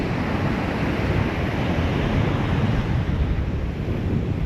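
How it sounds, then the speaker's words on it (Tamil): Dangerous, rough sea surf pounds a shore with boats pulled up on it, a dense, continuous roar of crashing waves mixed with wind buffeting the microphone, loud and unbroken, with no voices. "கடல் அடிக்கிற அடியை மட்டும் பாருங்க எப்படி அடிக்கும்"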